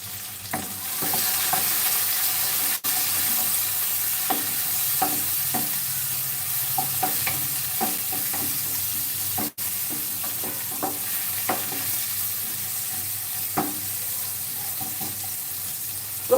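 Chopped onions, sliced green and red chilies and chopped garlic sizzle steadily in a frying pan, with occasional light clicks and scrapes of stirring, continuing without talk.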